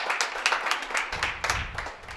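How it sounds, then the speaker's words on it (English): A short burst of applause from spectators at a high school varsity gymnastics meet, rapid overlapping claps at moderate volume. "Nice round of applause on that one."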